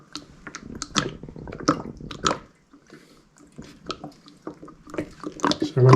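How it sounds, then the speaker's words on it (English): Fluid is poured from a jug through a funnel into a Kubota LX2610 or LX3310 tractor during a 50-hour service, a close, irregular gurgling and dripping trickle with pauses and a louder splash near the end. "So I'm going to pour almost the whole jug in here."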